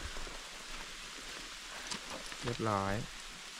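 Steady rain falls along a hiking trail on Mt. Kitadake in Japan, a constant soft hiss throughout, with a brief voice speaking near the end.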